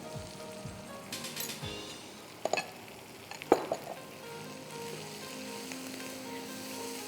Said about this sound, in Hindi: इसको हम भून लेंगे जब तक इसकी अच्छा सा एक ऑयल बिल्कुल सेपरेट हो जाए